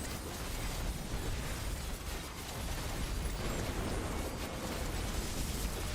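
Enemy bomb explosions in the Soulstone Survivors arena survival game, a dense, continuous roar of overlapping bursts and pops with no pause, loud and busy throughout.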